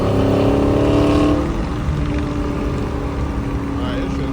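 Dodge Challenger SRT 392 engine rumbling loudly on a highway, a deep steady drone with a humming tone that eases slightly after a second and a half, its sound reflecting off a nearby wall.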